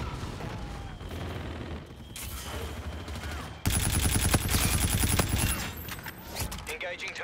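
Rapid gunfire from the video game Infinite Warfare, dense automatic bursts rattling over game noise and radio-style voices, with a louder sustained volley in the second half.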